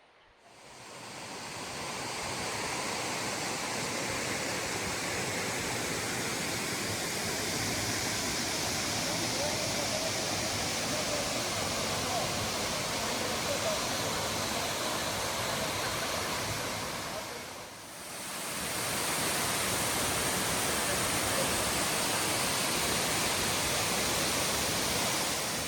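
Steady roar of a deep waterfall near Panjpeer Rocks outside Islamabad, a loud continuous rush of falling water close by that fills the whole stretch with only one brief dip.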